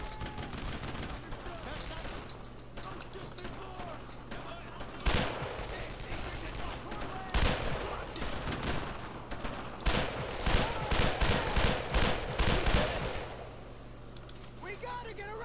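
Gunfire in Brothers in Arms: Road to Hill 30 during a WWII armour battle, sharp shots breaking out amid a steady rumble, then a dense rapid burst of repeated rifle and machine-gun fire near the end.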